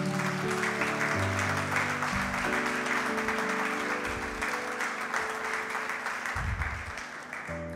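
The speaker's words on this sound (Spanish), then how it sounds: "Se vale un aplauso al Señor." Congregation at a church service applauds, a steady broad wash of clapping sustained throughout, with organ or keyboard chords ringing underneath.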